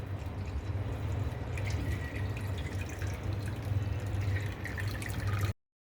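Curdled milk poured through muslin cloth set in a strainer over a pot, a steady trickling, dripping stream for several seconds that cuts off abruptly.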